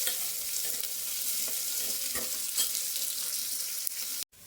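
Onions fry in a pan for egg sambar with a loud, continuous sizzle and faint stirring scrapes, ending in a sudden cut.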